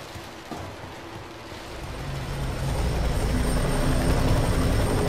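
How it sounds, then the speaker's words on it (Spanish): A helicopter's rotor chop and engine whine in the video game FEAR 3 swell louder over a few seconds, thick and noisy, as if approaching. "Venga ya, hombre, otro helicóptero."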